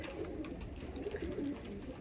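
High flying Madrasi pigeons coo in low, warbling bursts that swell briefly near the end, close and fairly quiet over background noise.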